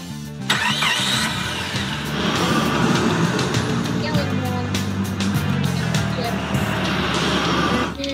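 Car engine from a children's video game starts up and drives at a steady mid-pitched hum, holding at an even loudness for several seconds and layered with game music and effects.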